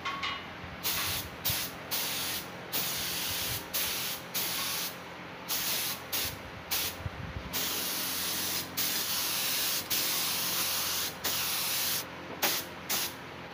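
Short repeated bursts of a spray gun at about 25 PSI hissing as it applies clear coat to motorcycle inner panels, each lasting about a second with brief gaps between, steady and close, no voices.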